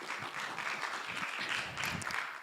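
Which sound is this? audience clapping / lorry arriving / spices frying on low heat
audience clapping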